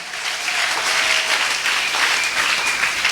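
A church congregation breaks into sustained, energetic applause, many hands clapping at once in a continuous, even roar.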